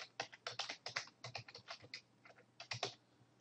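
A computer keyboard clatters with quick, uneven bursts of keystrokes, close and crisp, with short pauses between typed runs in a quiet room.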